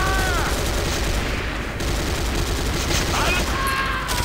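Dense, continuous gunfire from C&C Renegade fills the whole stretch, loud and close, a sustained rattle of automatic shots with whining effects layered over it.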